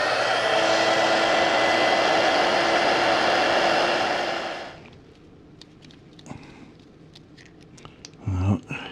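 A heat gun is applied to the barrel of a 1943 Parker Vacumatic pen, giving a steady loud blowing whoosh that runs for several seconds and then cuts off, leaving faint handling clicks and a short rustle.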